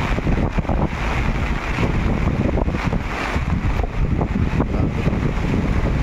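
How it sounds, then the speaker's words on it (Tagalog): Strong typhoon wind from storm Carina roars and buffets steadily and loudly against the microphone, like a dense rushing blast with no pauses. "Pati payong ko parang dinadala ng hangin."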